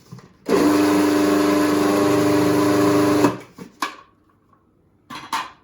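Food processor whizzing roasted pumpkin hummus seasoned with cayenne: a loud, steady motor whir for about three seconds that stops abruptly, followed by a few short clatters and knocks.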